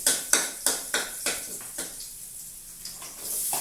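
Hotdog browning in a pan for a mung bean dish, with a run of sharp metallic scrapes and clinks from a utensil stirring it, over a faint steady sizzle that rises slightly toward the end.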